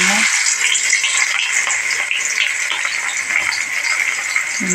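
Onions dropped into hot oil for a ginger curry fry with a steady, close hiss that fills the whole stretch, with faint bursts of crackle and no clear talk.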